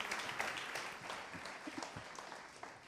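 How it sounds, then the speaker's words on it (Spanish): Applause from a conference audience during an institutional welcome, fairly faint and distant, with scattered claps fading toward the end. "Un fuerte aplauso, por favor, Para, para María"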